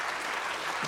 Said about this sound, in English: A round of applause for PwC.